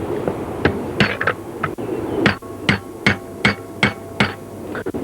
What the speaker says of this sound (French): tapez avec un morceau de bois ou peut-être plutôt un marteau